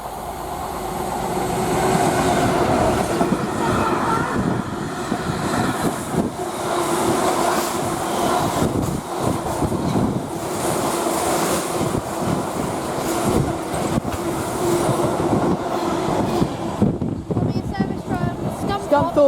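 Class 66 locomotive 66846 hauling a freight train past Kings Sutton, a sustained rumbling roar of wagons rolling by, wind noise on the microphone, a voice talking over it.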